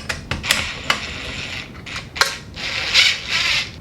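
An impact driver on its lowest setting fastens a wall or ceiling projector mount, giving bursts of ratcheting mechanical clatter separated by short pauses. The sound is close and fairly loud, with no one talking.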